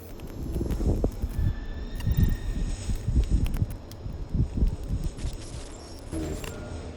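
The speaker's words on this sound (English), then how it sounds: "That's the sound of a brand new 3D print being finished." A 3D printer finishing a new print: steady mechanical whirring and rattling with irregular clicks and motor hum, fairly close and continuous, with no talking.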